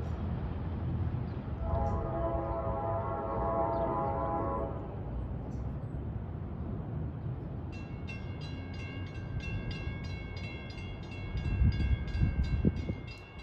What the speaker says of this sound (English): approaching is train 51, en route from Hoboken to Port Jervis